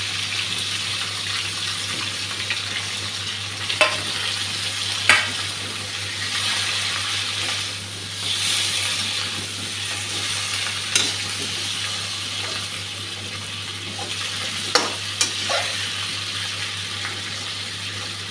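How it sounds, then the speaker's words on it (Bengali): Small fish coated in onion, green chili and spices fry in a pan with a steady soft sizzle over a low hum, broken by several sharp clinks and scrapes of a utensil, no talking. "এখন মাছগুলো দিয়ে দিচ্ছি, পেঁয়াজ কাঁচা লঙ্কা মাখা মাছগুলো মশলা মাখা।"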